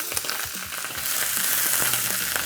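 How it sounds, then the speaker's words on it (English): Broccoli and spring onion hit hot oil in a pan, sending up a loud, continuous sizzle with low knocks and rattles as the vegetables are tossed. "All right, put the oil in. Broccoli in. I want my spring onion in there too."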